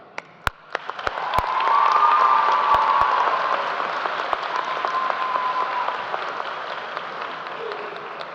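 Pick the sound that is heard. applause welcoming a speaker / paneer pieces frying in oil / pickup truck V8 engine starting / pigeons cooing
applause welcoming a speaker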